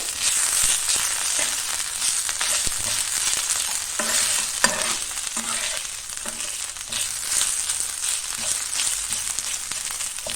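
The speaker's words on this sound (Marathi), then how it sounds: "त्याला पण चांगलं परतून घ्या" Ginger-garlic paste sautéed in a pan while making alu vadi pickle, with a dense, loud sizzle throughout, crackling spatters and repeated stirring scrapes close by.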